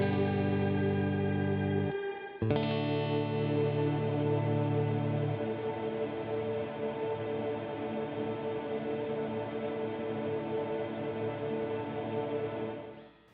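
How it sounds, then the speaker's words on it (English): Distorted electric guitar chords through a Disaster Area Designs DMC 3XL Gen 3 pedalboard setup ring out with a held, washy reverb tail that sustains and swells, the ambience continuing steadily for several seconds. "So what that does is just holds the reverb."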